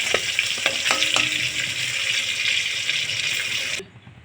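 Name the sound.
bhetki fish frying in oil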